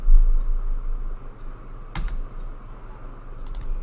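Typing on a computer keyboard, a steady patter of soft close key taps over a low constant hum, with one sharper louder stroke near the middle and a few crisp clicks toward the end.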